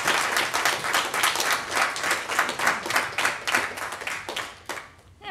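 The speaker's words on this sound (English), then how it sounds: "Please give one more round of applause for Ashley Ruhl" Audience applause at a game developers' talk on cinematic storytelling, a dense roomful of clapping hands that stays loud and steady before tapering off abruptly near the end.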